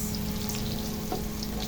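Chopped onion leeks sizzle and crackle steadily in a hot pan of oil, with a brief scrape of stirring near the end, loud and close with no voices.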